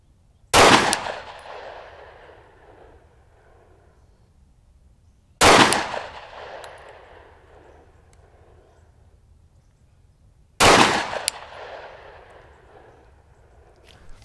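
Three loud pistol shots ring out at an outdoor shooting range, evenly spaced about five seconds apart, each a sharp close crack followed by a decaying echo.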